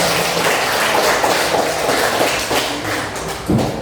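A classroom of students applauding, a dense, steady wash of clapping that fills the whole moment, loud and close with no talk over it.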